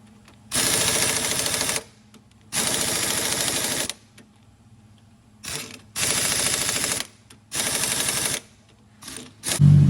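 A weak-hitting impact gun tightens the front axle nut on a 1992–1996 Toyota Camry, Lexus ES300 or Avalon with front-wheel drive. It gives four close, loud rattling bursts of about a second each, separated by short pauses.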